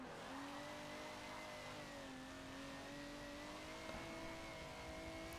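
Tires skid in the racing game Forza Motorsport 7: a steady, high squeal holds for several seconds over a continuous engine drone, moderately loud and alone with no voices.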